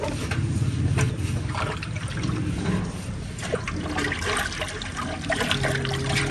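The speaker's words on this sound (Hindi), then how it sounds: "पानी यहाँ भरने लगे।" Water pours and trickles steadily into a drain channel during an earthworm compost setup, a continuous, fairly loud gushing with no talking.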